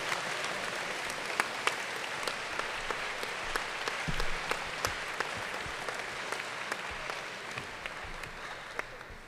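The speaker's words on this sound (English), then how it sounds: "Round of applause, please." Sustained audience applause fills a hall as a team is called to the stage at the National Science Bowl high school finals, a dense steady clatter of many hands with scattered louder claps throughout.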